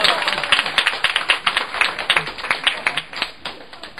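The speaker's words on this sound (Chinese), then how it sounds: "大家掌声鼓励给他一下。" An audience at a company year-end party bursts into lively applause, dense rapid clapping that stays loud for a few seconds and then tapers off slightly.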